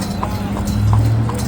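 Hooves of a large draft horse clip-clopping along, a steady, even beat of four distinct clops over a constant low hum, close and loud with faint talk underneath.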